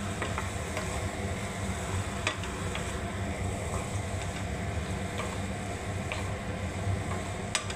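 Fried rice made from panta bhat with grated coconut, stir-fried in a pan: a continuous dense sizzle with frequent scraping and tapping of the utensil, close up and without talk.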